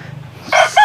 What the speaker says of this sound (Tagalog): Oh, manok.